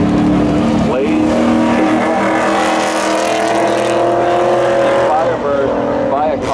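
Race cars, among them an '89 Firebird, roar loudly and continuously at a summer spectator drag event, engines droning and revving close by with a steady, dense mechanical tone throughout.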